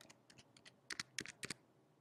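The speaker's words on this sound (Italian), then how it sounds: "Digito la mia username" Someone types a username and password on a computer keyboard, giving a quick run of close, crisp key clicks in uneven bursts with short pauses and no talking.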